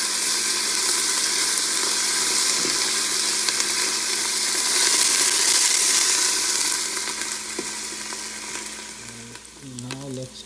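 Mutton curry frying and being stirred in a pan over low heat, a steady close sizzle with occasional scraping stirs throughout, easing slightly toward the end.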